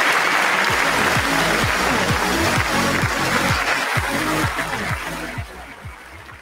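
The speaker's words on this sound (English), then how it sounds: "Give a round of applause." Loud, dense applause from an audience at a motivational talk, sustained and steady before tapering off toward the end, with a rhythmic low thumping running underneath.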